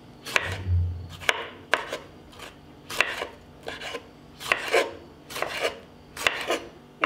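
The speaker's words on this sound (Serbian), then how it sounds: "sada ću iseći jednu svežu crvenu papriku" A knife chops a fresh red bell pepper on a cutting board in a home kitchen, about a dozen crisp, close knocks at an uneven pace with short slicing rasps in between, and no voices.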